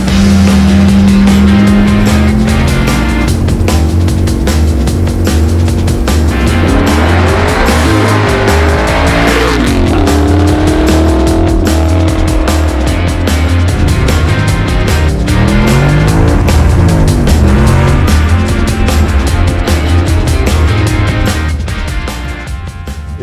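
A Pro Street 1967 Chevy Nova driven hard, its engine roaring loud and close as it climbs through the revs, with tire squeal and rising and falling pitch over a sustained, powerful run.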